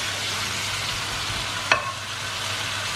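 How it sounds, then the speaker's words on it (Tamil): Chicken pieces fry in masala in a pan, a steady close sizzle broken once by a single sharp clink of a stirring spoon against the pan, with no voices. "ஸோ சிக்கனை போட்டுட்டு கொஞ்சம் அந்த மசாலாவில் பரட்டி விடுங்க."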